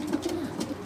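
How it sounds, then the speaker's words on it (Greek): Pigeons coo close by in a short, soft burst of low throaty calls in an outdoor loft setting in Aigaleo. "Αυτά είναι και τα Περιστέρια"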